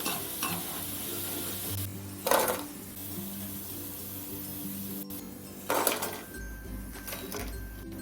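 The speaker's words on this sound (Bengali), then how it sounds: "করলাগুলো আমার ভাজা হয়ে গেছে এবার এগুলো তুলে নেবো" Crispy bitter gourd (karela) slices fry in hot oil with a continuous close sizzle, broken by two louder scraping bursts as pieces are stirred and lifted out. No one speaks.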